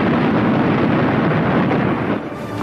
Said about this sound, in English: And a moment later, the explosion went off.